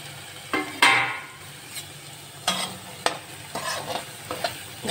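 Semolina roasting in hot ghee in a kadhai, a crackling sizzle broken by repeated scraping and clattering stirs of a spoon against the pan, close by with no talking.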